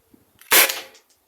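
A Byrna SD CO2-powered launcher fires a single shot, a sharp, loud, close pop with a short hissing tail, preceded and followed by faint handling clicks.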